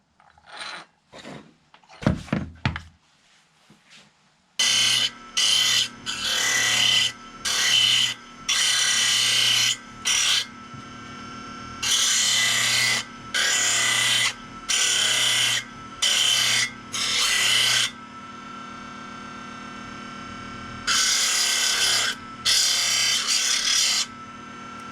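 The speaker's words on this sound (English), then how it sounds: "I'm going to sand these things to where they're straight." Foam wing templates are sanded straight by hand in a dozen or so long, loud rasping strokes, each burst separated by brief pauses, with a low steady hum running underneath.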